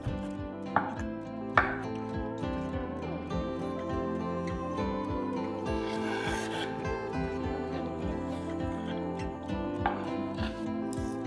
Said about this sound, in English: And then I'll roughly chop the water chestnuts into little pieces